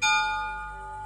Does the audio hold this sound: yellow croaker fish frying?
no